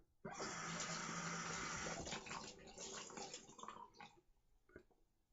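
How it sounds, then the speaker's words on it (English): Running tap water splashes steadily as a man rinses his face after a shave, a close, continuous gush that breaks into uneven splashes and trickles before fading out. "Rinse my face off."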